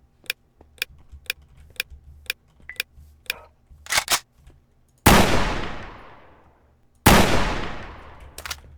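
Hunting rifle shots in the Rust survival video game: two loud, sharp reports with long decaying tails, preceded by a run of quick mechanical clicks and clatter.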